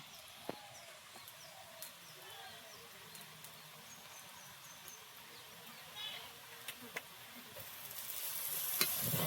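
Chicken chow mein with soy sauce is stirred in a pan at home, giving a low, steady sizzle with a few faint scrapes; a brighter, louder hiss builds near the end.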